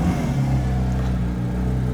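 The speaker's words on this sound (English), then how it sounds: "Can I record your car starting?" Porsche sports car idling just after start-up with its sports exhaust switched on, a steady low engine rumble with slight revving, close and continuous throughout.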